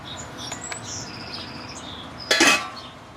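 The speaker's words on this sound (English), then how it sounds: "The birds, they're getting so excited about this." Small birds chirp and tweet faintly in the background of a home kitchen where spaghetti with yellow tomato pesto is being mixed, with a brief clatter of cutlery or dishes near the end.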